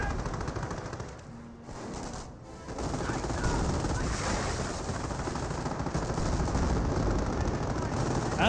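Rapid, sustained MG42 machine gun fire in the World War II strategy game Company of Heroes, a dense continuous battle roar with brief lulls, loud and unbroken.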